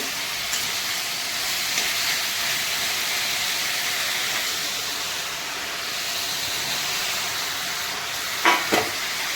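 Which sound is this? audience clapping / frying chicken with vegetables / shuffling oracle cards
frying chicken with vegetables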